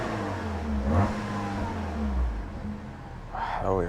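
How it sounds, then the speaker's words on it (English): A Peugeot 308 GTi engine idles smoothly at close range with a steady low hum, a brief rise near the start and faint voice-like sounds toward the end. "Idle. Yeah, idle's nice and smooth."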